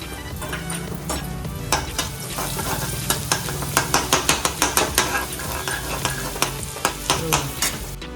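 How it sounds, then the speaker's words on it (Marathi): Cumin and mustard seeds crackle and spit in hot oil in a pan, a continuous close sizzle punctuated by sharp popping bursts that grow more frequent toward the middle. "सर्वात पहिला आपण जिरे मोरी टाकून घेऊया"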